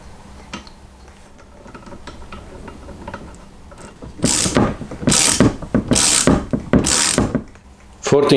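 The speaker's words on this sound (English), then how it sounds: "torque wrench, adjusted to 50 Newton meters" Torque wrench set to 50 newton meters tightening a bolt on a Suzuki V-Strom 800 motorcycle during center stand installation; a run of loud ratcheting strokes in bursts after quieter handling noises, close by.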